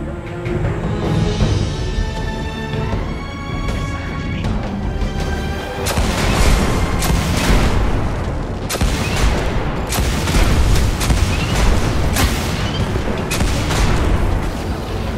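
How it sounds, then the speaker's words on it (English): A Scorch Cannon fires in the PS4 game Destiny during the House of Wolves mission, bursting out as a rapid run of heavy, booming blasts and rumbling explosions, loud and continuous with no talk. "Scorch cannon. Powerful and very rare indeed."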